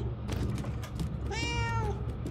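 A cat in the video game Murdered: Soul Suspect lets out a single clear, drawn-out meow over a low, steady background hum and some soft thumps.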